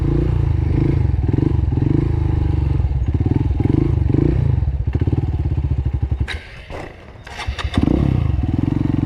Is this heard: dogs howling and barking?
no